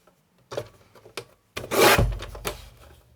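Folded tissue paper strips stacked one on top of another, with scattered soft rustles and taps, then a louder close crinkling and rubbing swell before it fades; no talking.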